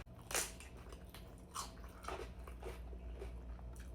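Crunchy bites and chewing of crispy crab rangoon nachos with sauce, several close, crackly crunches spaced through the clip with no talking.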